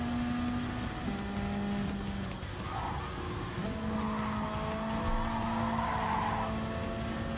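A Nissan sports car skids in Gran Turismo 7, sustained tire squeal in shifting tones over a steady engine hum, close and continuous across the whole stretch.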